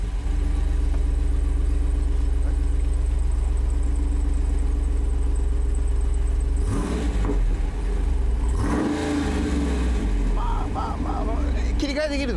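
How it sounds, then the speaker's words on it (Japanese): A new American car with a 6.4-litre engine fires up in a showroom, then settles into a deep, steady idle rumble. Louder mechanical bursts come partway through, and people talk around it. "エンジンスタート、これか。"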